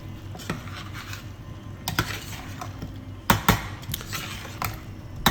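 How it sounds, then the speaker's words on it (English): Curry sauce for a restaurant-style meat vindaloo stirred in a pan as water is added, with soft scraping and a few sharp metallic clinks of the spoon against the pan over a low background. "Put a cup at a time and keep stirring."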